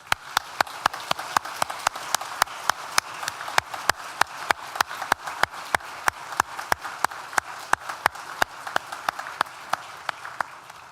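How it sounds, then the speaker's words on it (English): Audience applause at a university graduation ceremony, a steady wash of clapping from a crowd with sharp, regular individual claps standing out throughout. "Please join me in thanking them with a well-deserved round of applause."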